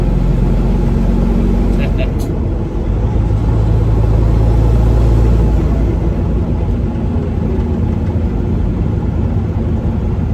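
A Peterbilt truck with low air leaf suspension and a big sleeper idles with a loud, deep engine rumble that stays constant, a low throb dominating throughout.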